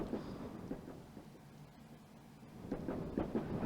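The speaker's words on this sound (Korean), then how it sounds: "기차 안은 여전히 덜컹거리는 소리로 가득하다" A moving train carriage rattles and clunks in low, rumbling bursts, quieter through the middle and picking up again with sharper knocks near the end, no voices over it.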